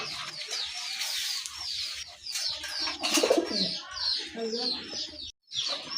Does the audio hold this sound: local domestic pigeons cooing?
yes